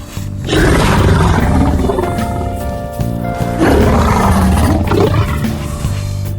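A creature in ARK Survival Evolved with the Paranoia mod lets out a loud, sustained roar, then a second roar after a brief dip, layered over dense in-game rumble and music.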